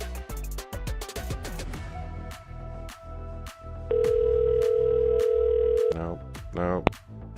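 A phone line rings out with no answer, a steady tone holding for about two seconds, with music and other sounds around it.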